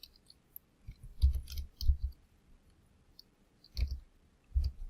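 Numbers being typed on a computer keyboard in a spreadsheet, a few short clusters of soft clicking keystrokes separated by quiet pauses, close and alone.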